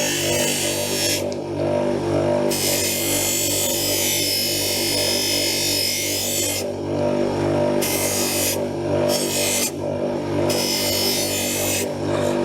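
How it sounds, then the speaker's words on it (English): A well-worn sanding disc deburrs the edges of a CNC-routed product at a slight angle, giving a steady close grinding rasp with several rising and dropping bright bursts over a continuous motor hum. "then I do the edges like that, so just a slight angle, and I'm just sort of deburring"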